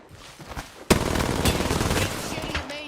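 Video game gunfire erupts suddenly in a loud crack, then rapid shots rattle on in a quick sputtering stream, close and dominant over faint background sound.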